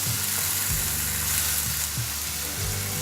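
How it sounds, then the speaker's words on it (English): Chopped onion sizzling steadily in hot oil in a pan for poha, a dense continuous frying hiss with low stirring thumps now and then, close and fairly loud throughout. "Now I will put this chopped onion."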